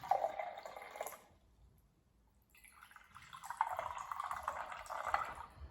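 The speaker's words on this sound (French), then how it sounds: "verser de l'eau dans les 2 verres." Water is poured into two glasses one after the other, a close trickling fill lasting about a second, then a pause before a longer, steadier pour into the second glass.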